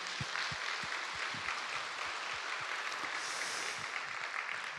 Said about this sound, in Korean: 우리에게 귀한 말씀 전해주신 노진환 선교사님께 우리 감사의 박수 올려드립니다.